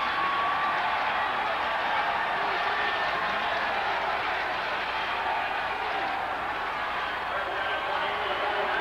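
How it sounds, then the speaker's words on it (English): Stadium crowd roar at a 1988 college football game between Cal State Fullerton and Long Beach State, a dense, steady wash of distant cheering and applause filling the whole stretch without letup. "they're going to have to settle this crowd down"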